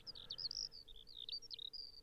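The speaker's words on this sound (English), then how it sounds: "We can pause here amongst these leafy glades and hear birds in the trees" Birds sing in leafy trees at Fleury near Verdun, a string of bright, quick chirps and warbling phrases repeating almost without pause, fairly near over a quiet background.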